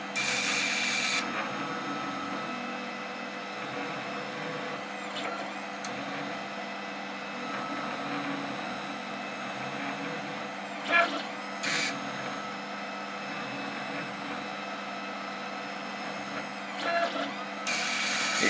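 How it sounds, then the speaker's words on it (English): A K40 laser cutter cuts 3mm birch plywood in one pass, giving a steady, fairly quiet fan-like hum with faint mechanical whirring and a few brief clicks and bumps along the way. "It will actually cut birch plywood 3mm on one pass"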